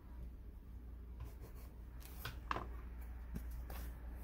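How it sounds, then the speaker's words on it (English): A pencil marks a door hanger frame: quiet scratchy strokes in short bursts, faint and close, over a low background hum. "I'm just going to mark with my pencil"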